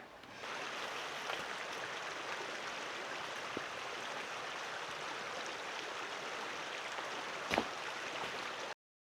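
The Kropa stream in the Voje valley rushes steadily over stones, a constant broadband wash of water with a brief louder splash near the end.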